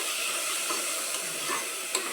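A Marathi-style tempering (phodni) for Khandesh khichdi fries in a pan, giving a continuous close sizzle with faint stirring scrapes and no voices.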